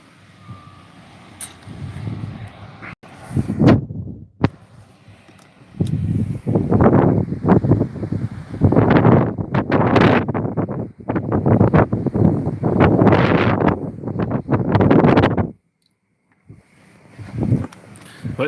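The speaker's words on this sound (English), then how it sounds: "It's really windy out there, so it is actually." Strong wind buffets a microphone outdoors near a truck, coming in loud, uneven gusts with short lulls, while a person talks over parts of it.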